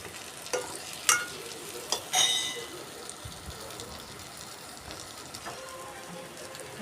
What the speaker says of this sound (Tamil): அதை போட்டு நல்லா கிளறி விட்டுக்கலாம் மசாலாவோட